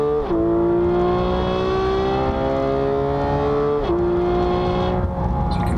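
A Porsche 991 GT3 accelerating hard on a race track, its loud, close engine note climbing steadily through the revs with two quick drops at gear changes, and no voices.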